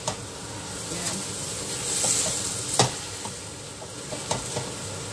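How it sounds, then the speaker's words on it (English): Spaghetti stirred in a pot of boiling water for a chicken and mushroom spaghetti dish, heard as a steady bubbling hiss broken by a few soft scraping strokes and one sharper knock near the middle. "pagkulo po, ihulog na natin yung ating spaghetti. Silang po natin ng maigi."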